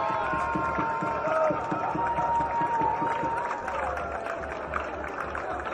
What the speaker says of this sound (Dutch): een heel erg warm applaus voor de mensen van de warme hap van Zorgstroom